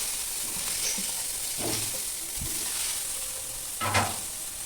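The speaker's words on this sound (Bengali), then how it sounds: "এবার আলু ভাজা তেলে ওই তেলেই দিয়ে দেবো বেগুন।" Cut eggplant pieces fry in hot oil left from frying potatoes, a steady sizzle with a few sharp stirring clatters and louder spatters near the end, no voices.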